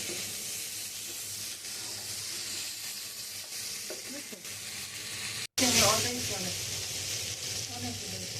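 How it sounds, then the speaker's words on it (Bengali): Soya chunks fry in hot oil with a steady, close sizzle, then a sharp louder hiss surges midway as more goes into the pan, and the crackling continues. "সয়াবিন মিটগুলো আমি একটু দেবো, মানে অল্প ভেজে নিচ্ছি।"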